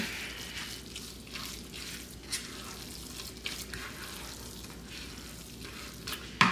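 A utensil stirs seasoning into cheesy cauliflower rice in a pan with a few scrapes and light taps. The sound is quiet and soft, with a faint sizzle underneath.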